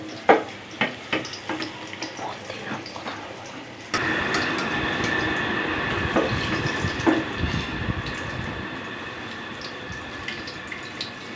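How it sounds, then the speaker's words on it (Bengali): Banana pitha cakes made from ripe banana and flour fry in oil. Scattered clicks and taps come first, then a loud, steady, broad hiss of frying starts abruptly and continues to the end, with no talk. "তারপর পিঠাটাকে আমি লাল লাল করে ভেজে নিব"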